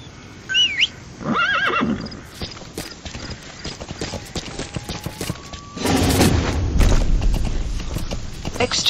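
Game-style horse sounds in Metal Gear Solid V: a whinny, then rhythmic hoofbeats clip-clopping, with a burst of louder galloping and rustle near the end.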